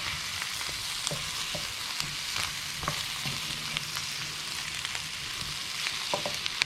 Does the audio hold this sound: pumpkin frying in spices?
yes